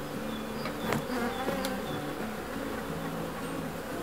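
Honey bees buzz steadily at a wooden hive in a village apiary, a dense continuous hum close by with individual insects droning past.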